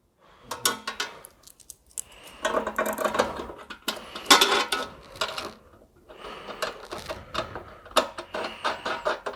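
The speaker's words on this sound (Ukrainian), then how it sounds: "Беремо клему на мінус. Перекручуємо болтом з комплекту." A bolt is tightened onto the negative battery terminal clamp while wiring an electric starter. Close metallic ratcheting and clicking comes in irregular bursts separated by short pauses.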